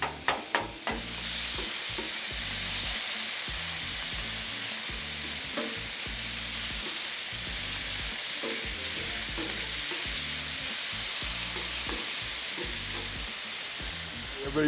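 Chunky Jimmy Dean pork sausage fries on a Pit Boss Ultimate flat-top griddle: a loud, constant sizzle runs under rhythmic scraping and chopping of a spatula on the steel, with a few sharp taps at the start.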